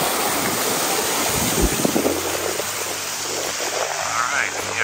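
Waves wash steadily onto Sochi beach on the Black Sea, a broad continuous surf roar blended with wind buffeting the microphone and a low rumble beneath.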